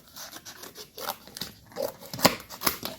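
Scissors snip repeatedly while a builder cuts parts into foot holders for a homemade transport cart for old dogs, a series of close, crisp, uneven cuts without speech.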